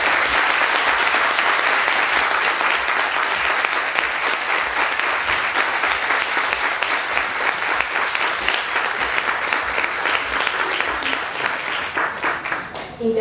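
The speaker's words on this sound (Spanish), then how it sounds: "quisiera que con un aplauso tuviéramos este sencillo y a la vez muy sentido homenaje" Sustained applause from an audience at a tribute ceremony honouring a local shopkeeper during a trade fair in Vegadeo, steady dense clapping from start to finish, loud and close, gradually thinning near the end.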